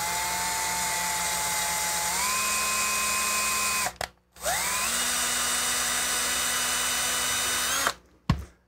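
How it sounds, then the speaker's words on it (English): A power drill chasing screw threads into a hole in a 3D-printed part whines steadily and loudly, stepping up in pitch partway through, stopping briefly, then spinning up again before cutting off near the end. "Chase your threads on the second hole."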